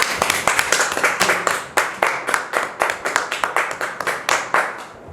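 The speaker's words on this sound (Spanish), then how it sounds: "solo aplaudir" Audience clapping at a cabaret show after a ghost story, sharp, fairly close claps in a quick, slightly uneven rhythm for about five seconds.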